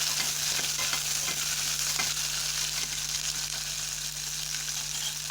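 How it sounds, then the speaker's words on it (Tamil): Small onions and garlic sauté in a pan for a village-style Tamil tamarind curry, giving a steady close sizzle with scattered stirring clinks and scrapes throughout, under a constant low hum and no talk. "இப்போ வதக்கி விட்டுக்கலாம்."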